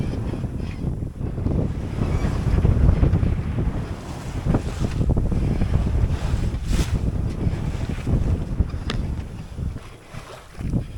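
A sailboat slicing through the water under wind, with buffeting wind noise against the microphone and a continuous rushing wash of water, close and fairly loud.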